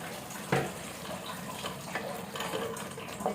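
Chicken stock pours into a pan of chicken kofta curry, a soft continuous liquid trickle and splash with a few brief clinks, heard close and alone without talk.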